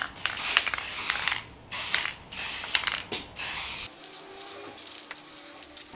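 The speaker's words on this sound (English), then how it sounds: "With some spray paint that's going to give me some contrast, I'm going to give a light coat on the edges to mark them." A spray paint can lays a light coat along the edges of a steel fire pit, heard as close hissing bursts separated by short pauses.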